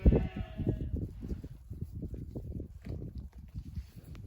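Sheep bleat inside a barn, several overlapping calls at varying distances forming a steady, restless chorus with shuffling hoof movement underneath, moderately quiet overall.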